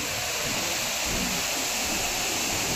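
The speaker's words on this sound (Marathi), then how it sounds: "तेवढाच रौद्र भीषण असलेला हा रंधा वॉटरफॉल, अगदी जवळून त्याचं चित्रीकरण, पाण्याचं धुवाधार असं रूप" The Randha waterfall near Bhandardara dam in full monsoon flow, heard close up as a loud, steady, unbroken roar of thundering water.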